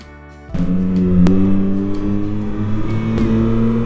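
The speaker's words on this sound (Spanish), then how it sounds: "doy un golpe seco muy pequeño y la moto quiere levantar rueda al instante aunque vaya bajo de revoluciones" A Yamaha MT-09 SP motorcycle engine opens up loudly from a low idle, rising into a steady, strong drone with small throttle blips along the way, heard up close with no talking.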